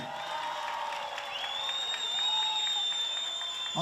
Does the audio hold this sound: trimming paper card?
no